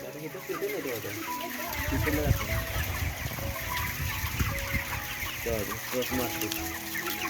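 Chickens cluck and murmur inside a poultry farm shed, with many birds heard together at close range as a steady layered chorus, and a few louder calls rising above the flock.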